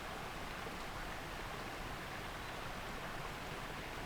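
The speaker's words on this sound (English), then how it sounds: "It's just a small branch of the waterfall." Steady rushing waterfall stream in the video game The Dark Eye: Memoria, a dense even wash of water noise that holds constant throughout with no voices over it.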